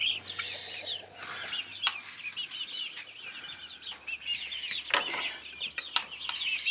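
Six-week-old chicks in a netted chicken run peep and cheep constantly in high, busy chatter, with wings flapping and bumps against the coop and mesh.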